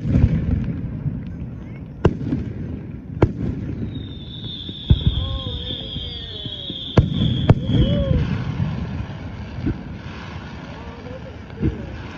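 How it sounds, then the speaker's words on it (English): Canada Day fireworks mortars pop sharply several times at irregular intervals amid wind and distant rumble, with a whistling rocket and voices talking throughout. "Dad, they're popping mortars."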